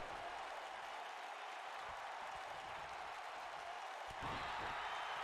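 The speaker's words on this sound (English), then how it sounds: "The crowd are now cheering," A wrestling event crowd cheers and applauds in a steady, distant wash of noise that swells slightly louder near the end.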